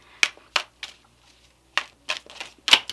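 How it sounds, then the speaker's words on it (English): Tarot cards slap and flutter as they spill out during shuffling, several sharp, close papery bursts spaced irregularly across a quiet background. "a lot of cards fell out."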